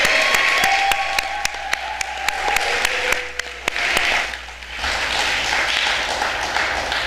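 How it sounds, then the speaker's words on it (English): Applause from an audience at an arts council awards ceremony in Bermuda, a steady dense clapping that swells and continues throughout, with a few sharper individual claps standing out near the start. "We can applaud."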